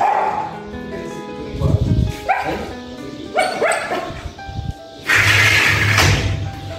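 Several dogs bark and yip at a kennel, with loud, close, irregular bursts of barking and some whimpering, mixed with a voice.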